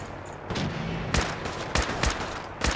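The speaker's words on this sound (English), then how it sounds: "let's bust out our new kneecapping rifle" Rifle gunfire in Fallout 4, several sharp shots ringing out at uneven intervals over a steady background of game ambience and low rumble, with no talking.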